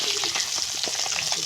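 Koi fish fry in hot oil, a close, steady crackling sizzle with small pops throughout and no talk.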